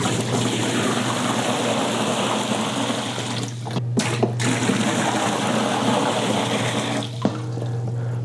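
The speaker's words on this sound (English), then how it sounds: "So we just gotta fill it up with water now." Water pours steadily and loudly into a large portable foldable bathtub, a continuous dense rushing splash with a couple of brief interruptions, with no one talking.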